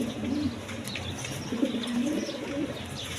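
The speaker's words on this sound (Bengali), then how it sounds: "কবুতরগুলো আমার বাসা বাড়িতে পালি" Pigeons kept at a farmer's home coo in low rolling calls at close range, with a soft wing flutter and faint chirps in the background.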